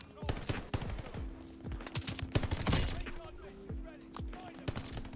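Rapid bursts of BAR automatic rifle fire in a first-person shooter, loud and close, with several quick strings of shots one after another and a voice talking over part of it.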